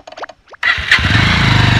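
A motorcycle in a Nepali comedy scene starts after a couple of short mechanical clicks. The engine catches abruptly and settles into a loud, close, steady rhythmic idle.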